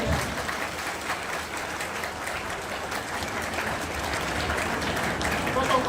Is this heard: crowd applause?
yes